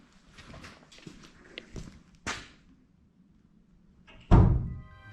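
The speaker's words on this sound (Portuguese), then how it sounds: "Ele escuta passos e aí a porta que tá lá no fundo fecha." A few scattered footsteps inside an abandoned, closed building, followed by a loud thud as a door at the back swings shut, near and alone with no talk.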